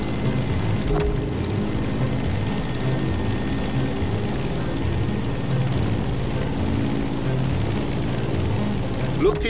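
A propeller plane's engine drones steadily and loudly while climbing in the video game The Crew Motorfest, a low, continuous hum that holds throughout.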